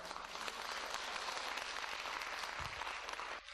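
Sustained audience applause fills a lecture hall during a pastor's sermon, steady dense clapping that carries at even volume for several seconds before cutting off abruptly.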